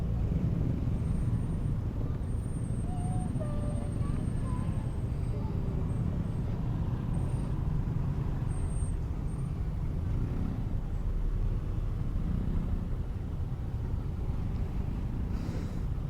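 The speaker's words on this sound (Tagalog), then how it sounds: "Traffic talaga." Congested evening street traffic in Imus, Cavite, heard from a Honda Wave RSX motorcycle: a constant loud rumble of engines and road noise with wind buffeting, steady throughout and no clear voices.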